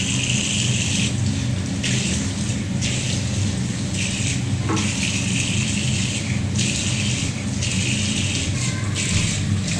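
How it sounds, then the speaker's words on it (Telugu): A kitchen tap runs steadily while groceries are rinsed under the stream. The close, constant hiss of water is broken by faint splashes and shifts as items move through the flow. "అది మొత్తం ఏ పార్ట్ వదలకుండా దాన్ని కడియండి"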